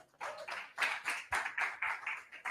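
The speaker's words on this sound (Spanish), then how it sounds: "Vamos a darle un aplauso, Señor" Congregation clapping in a church service, a rhythmic series of evenly spaced group claps at a brisk beat, moderately loud and close with no talking.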